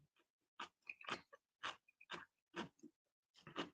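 Crunchy snacks are chewed close to the microphone, a series of quiet crisp crunching bursts in an uneven rhythm with brief pauses between bites.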